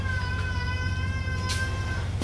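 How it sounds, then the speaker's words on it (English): Cats meow in a long, sustained, tonal wail followed by a brief second cry, heard over a steady low hum in a shop setting. "the cats are going crazy"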